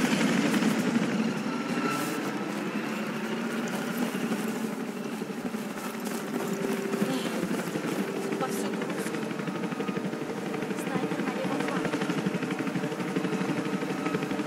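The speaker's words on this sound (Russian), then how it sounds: "Осторожно. Идет вертолет." Helicopter in the Battlefield 4 video game, a steady rotor and engine drone holding loud and continuous throughout, with game ambience and voices layered on top.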